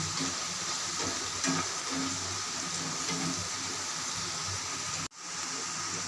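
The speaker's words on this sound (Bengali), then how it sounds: "কাজুটা আর কিশমিশটা দিয়ে বেশ দিয়ে ভালো করে লাল লাল করে ভাজবো" Cashews and raisins fry together with beans in a pan, a steady close sizzle with occasional stirring scrapes, cut briefly by a sharp drop near the end.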